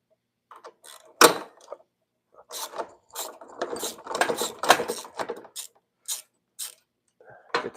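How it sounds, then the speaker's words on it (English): Ratcheting clicks and metal tool taps from a 1/2 inch wrench and 5/16 Allen key loosening the front section of a Bassani 2:1 exhaust on a 2013 American V-twin touring motorcycle, coming in short irregular bursts with pauses, close up and with no talk. "we're going to use a 1/2 inch wrench and a 5/16 Allen for the front portion of it"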